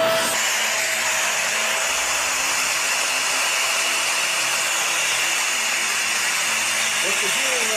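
A Shark Navigator Lift-Away upright vacuum cleaner runs with its attachment hose blocked by a hand, giving a loud, steady, airy whine and hiss that holds throughout, with a voice faintly underneath.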